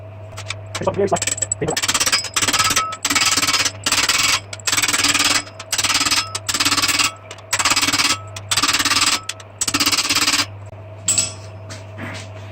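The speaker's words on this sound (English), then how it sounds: "So that's what I'm going to do by hammering this." Steel being hammered into shape for a medieval kettle helm, a close run of repeated loud metallic blows in bursts with short pauses between them, over a steady low hum.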